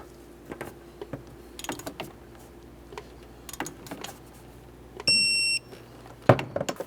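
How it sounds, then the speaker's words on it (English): A digital torque wrench sets a bolt to 35 foot-pounds on a 2001-2005 Ford Explorer Sport Trac, with soft ratcheting clicks, a half-second electronic beep signaling the target, and a sharp click right after. "Let's torque this to 35 foot-pounds."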